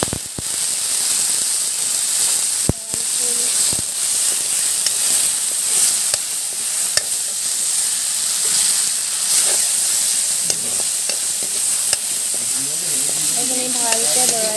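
Dried fish with four small green chillies, onion, ginger, salt and red chilli sizzles and hisses loudly and steadily in a hot pan, with occasional clinks of stirring throughout.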